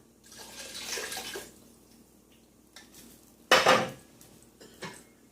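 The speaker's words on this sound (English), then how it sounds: "I'm going to add this to a pot, big pot. I'm going to add 2 cups of water." Two cups of water poured into a big pot for chili, a splashing pour up front followed by a sharp metallic clank of pot and utensil, then quieter knocks in a kitchen.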